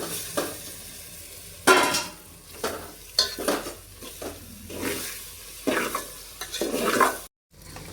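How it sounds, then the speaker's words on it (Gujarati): Sago pearls roast in oil with tomatoes in a pan, sounding as a soft sizzle broken by repeated bursts of spoon stirring and scraping against the metal, with a brief cut to silence near the end. "સાબુદાણા પાંચ મિનિટ તેલમાં શેકાવા દેવાનું"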